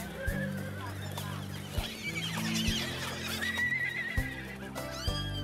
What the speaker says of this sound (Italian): La festa comincia con una grande cavalcata di 400 cavalli selvaggi che vengono fatti